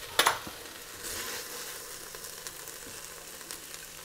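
Onions frying in butter in a hot pan, a faint steady sizzle with a sharp clatter at the start and a few light utensil taps, quiet and close, with no talk.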